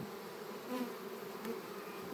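Swarm of agitated honeybees during a honey harvest, a continuous close drone of buzzing with a few louder passes rising briefly above the steady hum, and no talking.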